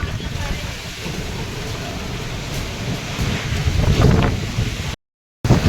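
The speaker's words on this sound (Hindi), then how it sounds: "इतना मौसम बहुत ज़बरदस्त हवा तूफान।" A strong wind storm with lightning roars outdoors, a loud, steady rumbling rush of gusts that buffets the microphone, then cuts to a brief silence before resuming.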